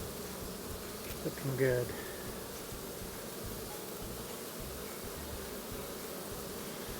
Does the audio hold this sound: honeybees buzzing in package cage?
yes